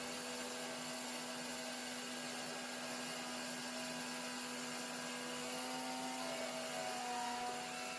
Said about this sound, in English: My machine first runs around the outside to check the correct location.